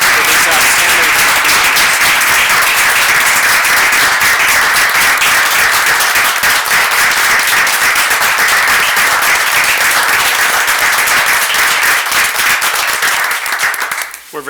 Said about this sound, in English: let's give a big round of applause to all of our employees for this outstanding.